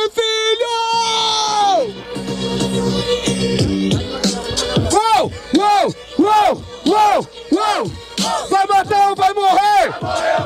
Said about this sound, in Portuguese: Barulho para as rimas do Cauê